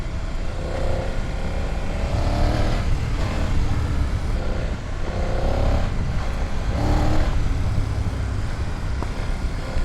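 A BMW F900 GS motorcycle rides a gravel trail in Wales, its engine droning steadily with repeated rises and falls as the throttle opens and eases, over continuous loose crunching and rushing noise.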